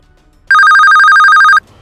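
A mobile phone ringtone sounds loud and close for about a second, a rapid pulsing electronic trill that starts abruptly and cuts off sharply, heard alone in a quiet room.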